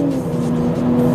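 The turbo four-cylinder engine of a 2020 Mercedes-AMG CLA 45 hums with a steady, close, fairly loud drone under acceleration, a short continuous burst with no voices.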